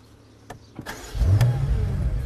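A new BMW M5's engine cranks with a couple of clicks and whirs, then catches and settles into a loud, close rumbling idle. No talking.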